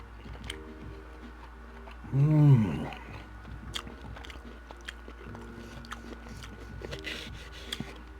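Canadian Wagyu steak being chewed close to the mic, a brief loud burst of mouth sounds and soft wet chewing amid light clicks, otherwise quiet.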